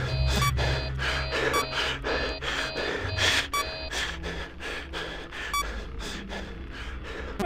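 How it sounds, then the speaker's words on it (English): Hard, rhythmic gasping breaths repeat steadily and close up over a horror game's faint electronic beeps and hum in Five Nights at Freddy's 3, with no talking. "Keep breathing all hard, bro."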